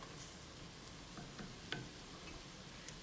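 Garlic sizzling in a pot as the base for turkey chili, a soft, steady frying hiss with a few faint clicks and stir taps, fairly quiet and close, with no talking.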